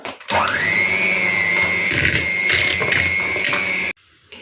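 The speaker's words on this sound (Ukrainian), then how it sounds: "І тепер гарнесенько зіб'ю міксером" Steady high-pitched motor whine of an electric hand mixer whipping ingredients for a plum pie, running continuously, with rattling and clattering of beaters against a bowl, then stopping abruptly.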